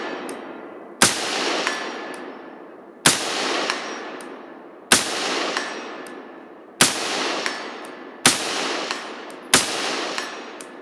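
Six sharp rifle shots fired from 69 grain reloads through a Vortex Strike Eagle 1-8x Gen 2 LPVO, evenly spaced about two seconds apart, each loud crack followed by a ringing decay and outdoor echo, no talking.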